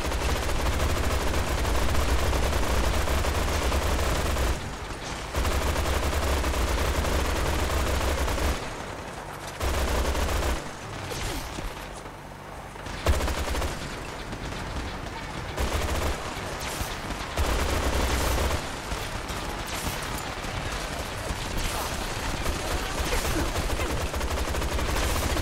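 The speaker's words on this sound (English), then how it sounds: "Glory's gonna do next, she's gonna go to her default and pull out a heavy weapon. That's right, an incendiary wasteland chain gun." Incendiary wasteland chain gun from Fallout 4 firing in long, loud sustained bursts with brief pauses between volleys, heavy and continuous, without talk.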